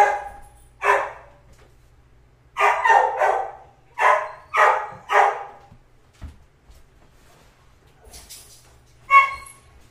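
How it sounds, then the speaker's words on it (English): Puppy barking at someone at the door: several sharp yaps in two bursts, a single bark, then a cluster of three, close and loud, with a final yip after a pause. "There's someone at the door. My puppy is going crazy."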